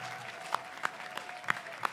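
A few scattered hand claps from an audience at an Aachen evening stage show, sparse and fairly faint, with no talking over them.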